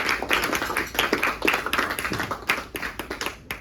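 Applause from an audience at a film talk event as a director is introduced, dense clapping throughout, fairly close and steady.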